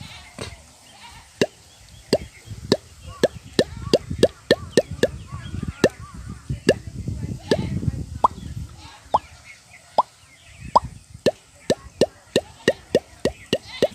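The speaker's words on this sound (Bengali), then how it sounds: "টিউবওয়েল বা পাইপ গাড়া হয়, সেই সময় পাইপ থেকে এইরকম শব্দ হয়।" Hollow plopping knocks repeat in a steady rhythm, dozens of them, close and distinct, with low rumbling murmurs in between, as a tube well pipe is sunk into the ground in a village.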